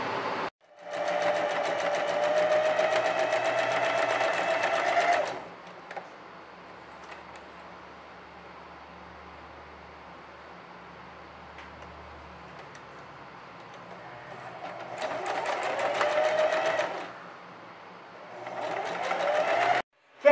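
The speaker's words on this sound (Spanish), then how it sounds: "Ahora sí vamos a realizar la costura de los laterales con overlock." An overlock serger stitches the side seams of a girl's dress in two long, steady whirring runs with a short burst at the end, loud and close, with a quiet pause between them and no talking.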